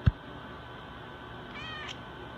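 A cat at an animal shelter gives faint meows, with a short quiet cry near the end against a low steady room hum.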